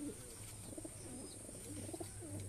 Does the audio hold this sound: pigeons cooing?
yes